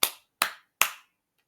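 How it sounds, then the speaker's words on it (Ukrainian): Hands clap three times, sharp and evenly spaced, loud and close with silence between claps. "Плескаємо багато разів."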